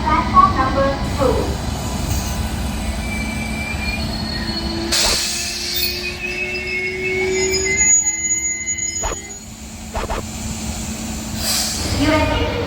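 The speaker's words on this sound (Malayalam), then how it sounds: "Train number 16309 Ernakulam Kayanpuram Nadu Express is just arriving on platform number 2." The 16309 Ernakulam Kayamkulam express passenger train pulls into platform 2 at a station, with heavy rumbling wheels, rail clatter and squeals, and a loudspeaker announcement running over the noise.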